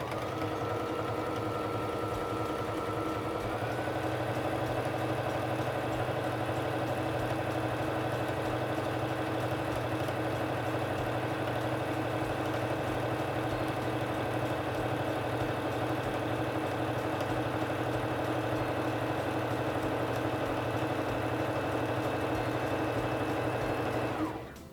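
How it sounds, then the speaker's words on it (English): A Singer Fashion Mate 3342 sewing machine stitching fabric, a steady close mechanical hum and rapid needle chatter running without pause for over twenty seconds, speeding up slightly early on before stopping at the end. "Now I'm going to put my fabric under the presser foot, lower it, and press on the foot control to begin sewing."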